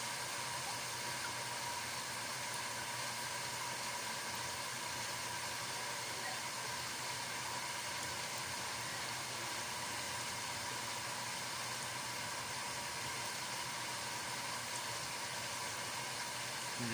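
A pump runs steadily at a nursery renovation site, a constant faint whirring hum with no change in level throughout.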